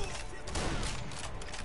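Sniper rifle and battlefield gunfire from a cooperative war video game, a dense continuous burst of shots and explosions that stays loud throughout, with a voice talking underneath.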